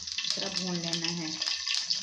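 Ajwain seeds fry in hot cooking oil, giving a close, steady sizzle and crackle for an aloo matar dish. A brief tonal hum runs through the middle, and no one speaks.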